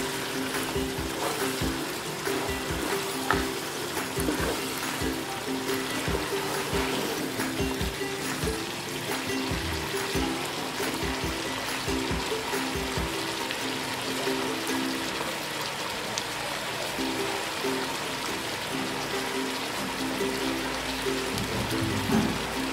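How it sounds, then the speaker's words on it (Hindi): Water is poured into a pot of Peshawari namkeen gosht, a steady continuous splashing and trickling that runs throughout, fairly close and alone with no talk. "अब मैं इसमें पानी डालूंगी।"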